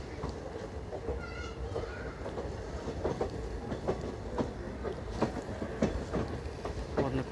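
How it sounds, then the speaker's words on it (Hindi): A DEMU passenger train pulls into Nakodar Junction, with steady rail rumble and rhythmic wheel clatter over track joints and a few clanks, heard from on board at moderate loudness. "और नकोदर जंक्शन पे अपनी ट्रेन का अराइवल हो रहा है"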